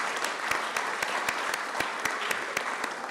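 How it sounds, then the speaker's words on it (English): Steady crowd applause with sharp, regularly spaced claps standing out over a dense wash of clapping, sustained throughout. "Let's give a round of applause"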